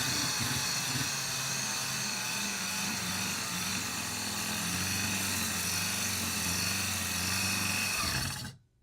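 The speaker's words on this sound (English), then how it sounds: "the sharpener's working on one side at least now." A sharpener motor runs with a steady, continuous whine and low hum, close and loud throughout, cutting off abruptly just before the end.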